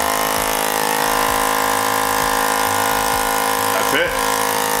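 Lexin portable motorcycle tire inflator air pump running with a constant droning motor hum and buzzing vibration, close and loud, steady throughout with a brief knock near the end.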